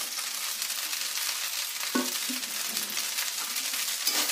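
Cooked rice with raisins is stirred in a pan for paneer fried rice: a steady hiss of frying runs throughout, with a few light scrapes and clinks of a spatula against the pan partway through.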